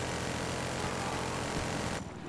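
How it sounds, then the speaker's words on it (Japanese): A patrol helicopter in Battlefield Hardline gives a loud, dense rotor and engine roar that fills the clip with no talk over it, then cuts off abruptly near the end. "パトロールヘリ動かそうかな。"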